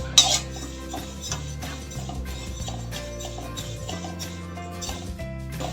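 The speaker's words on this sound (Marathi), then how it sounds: "त्यात थोडी बडीशोप आपण भाजून घेऊया." Fennel seeds dry roasting in a pan, with light scraping and clinking of a spatula against metal heard under steady background music.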